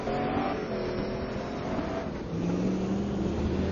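An STC Black Cup race car at Bahrain, heard from onboard, holds a steady loud engine drone that drops briefly and then settles into a lower tone.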